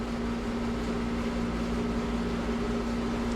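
A banjo propane burner running under a big cast iron pot on a cold day: a continuous, even low roar with a steady humming drone, unchanging throughout.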